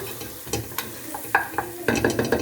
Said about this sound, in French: on va déglacer l'ensemble avec un peu de vin blanc